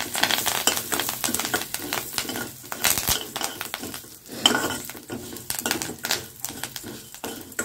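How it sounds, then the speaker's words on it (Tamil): Curry leaves fry in a pan over medium flame with roasted chutney ingredients, giving a crackling sizzle mixed with scraping stirs and clinks of a spoon against metal, close and continuous without talk. "இப்போ ஒரு இனுக்கு கருவேப்பிலை ஆட் பண்ணிக்கலாம்."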